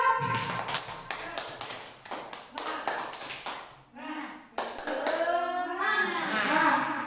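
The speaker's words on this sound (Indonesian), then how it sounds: "Tepuk semangat" Teachers at a school training session perform a group spirit clap, a quick patterned burst of synchronized hand claps in rhythmic bursts, followed by a person speaking.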